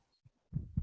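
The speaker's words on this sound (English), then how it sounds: "the sound of the heartbeat begins to fade" A heartbeat sound effect thumps twice at close range, the second beat trailing away as the pulse fades out, with low throbbing energy and no voices.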